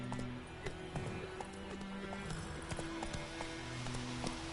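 Roach the horse's hooves clip-clopping in The Witcher 3, a steady rhythmic stream of hoof falls at a walking or trotting pace, with a faint voice underneath.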